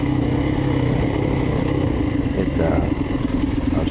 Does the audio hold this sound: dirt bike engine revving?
yes